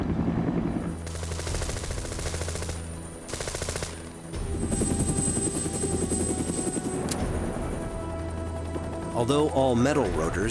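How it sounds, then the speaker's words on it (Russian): Huey helicopter in flight, its thick all-metal rotor blades thumping steadily through the clip, mixed with bursts of gunfire and a musical score, with a voice speaking over it. "Когда я впервые оказался в вертолете Huey и потянул на себя рычаг управления, мы словно упали вверх."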